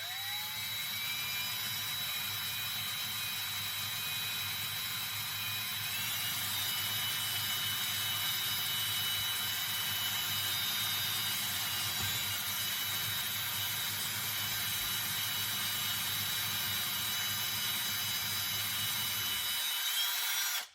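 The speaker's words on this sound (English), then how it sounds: "Drill is on the lowest speed, so being very careful, and we'll start going through these" A power drill runs on its lowest speed, boring through the floor of a car trunk, giving a steady close whine with low rumble throughout and stopping just before the end.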